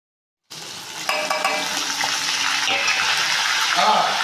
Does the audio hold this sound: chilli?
yes